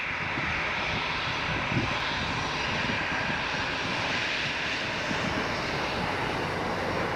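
An Aer Lingus airliner's engines roar steadily at Leeds Bradford Airport, a broad, sustained whine-and-rush at moderate distance that holds level for the whole stretch with no voices.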